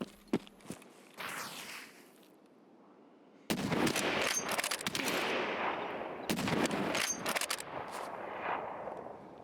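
Gunfire in a first-person shooter game with a sniper scav nearby: scattered single shots, then dense, loud bursts of rapid fire with sharp cracks and clatter, close and overlapping.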